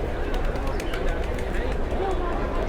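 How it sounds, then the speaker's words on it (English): Pigeons coo softly outdoors at the Gateway of India in Mumbai, amid a busy crowd hubbub, with voices talking over them. "the pigeons"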